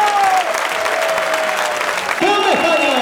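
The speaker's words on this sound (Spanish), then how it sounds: "Un aplauso mucho más fuerte." Crowd applause at the Spanish national road cycling championship, a dense, loud burst of clapping with a voice speaking over it.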